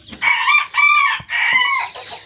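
A rooster crows in three long, loud calls close by, each with a harsh rising and falling tone, separated by short pauses.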